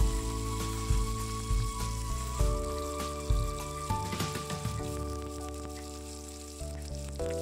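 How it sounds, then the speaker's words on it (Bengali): Cubed onion and capsicum sizzle steadily in hot oil in a village kitchen, a continuous close crackle and hiss with faint steady tones in the background. "একইভাবে ক্যাপসিকামও কিউব করে কেটে রেখেছিলাম সেটাও এর সাথে ভেজে নেব।"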